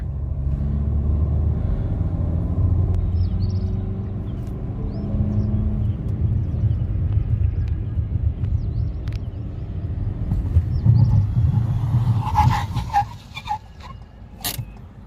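A Ford EcoSport Titanium accelerates toward 80 km/h on a road ahead of an ABS braking test, with a steady low engine and road rumble throughout and some brighter mechanical clatter near the end.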